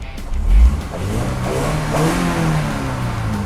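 Toyota Commuter 2.7 van engine revving up from inside the cabin, a steady mid-pitched drone that swells briefly near the start and then holds at a fairly even level.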